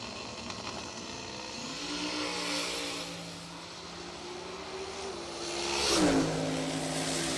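Drag racing cars launch at a street nationals event: engines roar, revving up and shifting in pitch, with a louder surge near the end, heard from a moderate distance over a noisy outdoor crowd.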